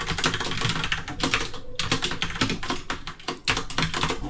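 Rapid clicking of keys on a computer keyboard while typing code, a close, busy stream of taps in uneven bursts with a brief pause midway, alone without speech.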